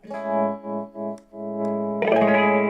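A Fender Vintera II Road Worn electric guitar chord pulses on and off in a wavering tremolo, then a brighter strummed chord rings out with effects, close and alone.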